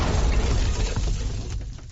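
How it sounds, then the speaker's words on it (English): Explosion sound effect played on a podcast, a loud rumbling blast with crackling debris that decays over about two seconds. "I was wondering if there's an explosion"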